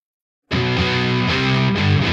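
An electric guitar played through a free distortion pedal plugin bursts in after a short silence, a loud, thick sustained chord with slight shifts in tone.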